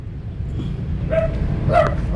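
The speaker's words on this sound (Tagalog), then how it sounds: "Aso na ang sumagot." A dog gives two close, loud barks at a place selling bahay kubo huts, over a constant low rumble of wind or outdoor noise.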